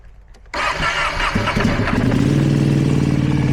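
A 2024 Ducati Panigale V2 SuperQuadro motorcycle with an Aprokovich exhaust starts after about half a second of quiet. The engine catches at once and settles into a loud, close, steady idle.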